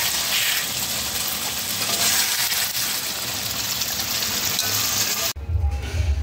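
Ground garam masala paste sizzling and being stirred in a pan of stuffed pointed gourd curry, a continuous loud frying hiss that cuts off abruptly near the end, followed by a brief low clatter.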